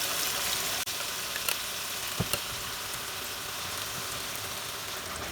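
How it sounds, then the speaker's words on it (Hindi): Marinated mutton with softened tomato sautés in a pot over a high flame, giving a steady close sizzle and hiss, broken by a few clicks and scrapes of stirring, with no voices. "अभी मैं इसमें मैरिनेटेड मटन ऐड कर रही हूँ। फ्लेम अभी भी मैंने हाई पे ही रखा है।"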